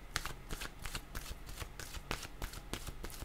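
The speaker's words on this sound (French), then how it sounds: "je vais demander une carte de mon oracle de l'âme intuitive" An oracle card deck is shuffled by hand, with a quick run of crisp riffling card snaps and soft slaps repeating steadily for a few seconds, close and clear with no talking.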